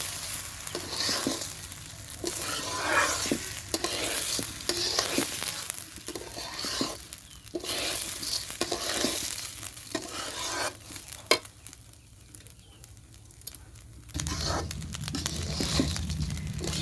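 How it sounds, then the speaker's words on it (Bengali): Rice stir-fried in a pan with browned onions for coconut-milk pulao, a close, continuous sizzle and frying hiss broken by repeated scraping and stirring strokes, with a brief pause before the sizzling resumes loudly. "সুন্দর করে চালটা ভাজা হয়ে গেল।"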